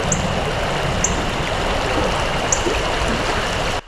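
A river rushes steadily beside a truck campsite, a broad, even wash of flowing water heard close, with faint high chirps on top, cutting off at the end.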